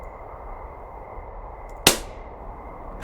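A single sharp, loud click-clunk comes as a power switch is thrown in Firewatch, set against a steady low ambient hum, followed by a faint later click.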